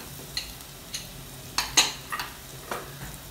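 Soft scraping strokes of a spoon stirring onions frying in a pan, with light crackling bursts of sizzle at irregular intervals, close and moderately quiet.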